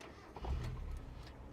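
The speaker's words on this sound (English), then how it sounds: "Okay, so we're going to start the car up." A Mazda Miata engine cranks and starts up at close range, a brief low rumbling burst that settles into a quiet, steady idle, with no talk over it.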